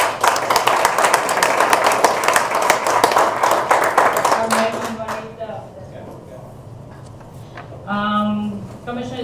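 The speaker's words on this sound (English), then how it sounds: "Round of applause, folks." Audience applause at a big data analytics symposium panel, a dense steady clatter of many hands clapping for about five seconds before it thins out, with a voice speaking briefly near the end.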